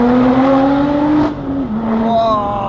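A Lotus Exige Sport 380 in race mode accelerates hard on the road, its engine note climbing steadily in pitch, dropping briefly at a gear change, then rising again, loud and close throughout.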